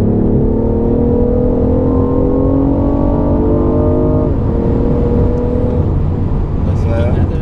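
A BMW i8 engine revs up loudly and close, pitch climbing steadily as it accelerates toward 160 km/h, shifts briefly, then keeps pulling with a throaty exhaust drone.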